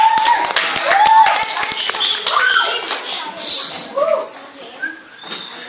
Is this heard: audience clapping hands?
yes